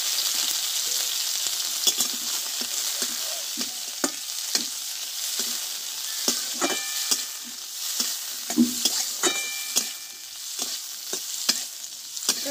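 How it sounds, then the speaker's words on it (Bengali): Raisins frying in ghee give a bright, steady sizzle, with light scraping and tapping from stirring scattered throughout. "কিশমিশগুলো আমি পরিষ্কার করে ধুয়ে নিয়েছি, এবার ঘিটা আমি ভেজে নেব"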